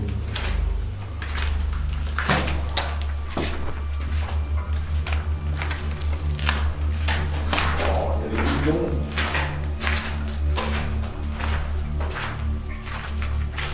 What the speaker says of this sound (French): La porte à l'ancienne.